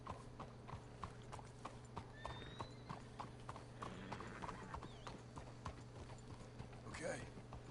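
Horse hooves clip-clop steadily in the Red Dead Redemption 2 video game, a continuous rhythmic trot under a low background hum, with a brief whinny and faint game voices partway through.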